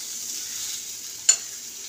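Potatoes frying in a pan for aloo posto give a faint, even sizzle, broken once by a single sharp clink partway through.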